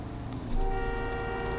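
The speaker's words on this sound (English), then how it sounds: "I didn't even know this bike has a proper car horn." A steady synthetic car horn tone sounds from a motorbike in the video game Saints Row 2, sustained over a continuous engine-like drone with no talking.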